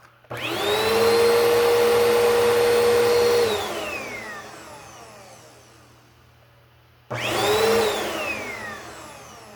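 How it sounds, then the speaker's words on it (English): A Bissell 2191U upright vacuum cleaner motor whines up to a loud steady roar, runs a few seconds, winds down, then starts up again. "So, here we go with the Bissell 2191U. This is a sound run-up only."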